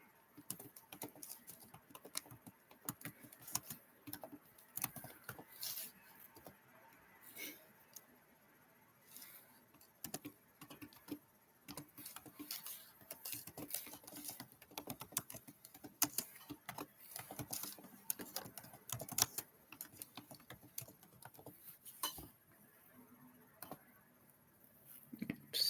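Fingers type on a computer keyboard in quiet, rapid bursts of soft clicks with brief pauses between runs. The sound is faint and fairly close.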